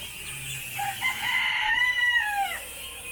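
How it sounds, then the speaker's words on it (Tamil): Black chickens at the Yelagiri bird sanctuary, a rooster giving a single close, loud crow over faint background sound. "2 கருப்பு கோழி ஜாலியாக சாப்பிட்டுங்க"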